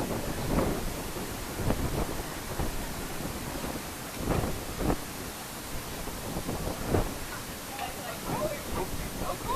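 Strong gusting wind of hurricane force roars and buffets the microphone in rumbling surges, with a voice speaking briefly.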